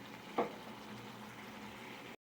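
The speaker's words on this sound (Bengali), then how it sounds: "হাফ কাপ জল দিয়ে দিচ্ছি মশলাটাকে ভালো করে কষিয়ে নেওয়ার জন্য" Spice paste for gati aalu dum sizzles and bubbles in a pan after half a cup of water is added, a brief splashy burst near the start settling into a steady low simmering hiss with no talking.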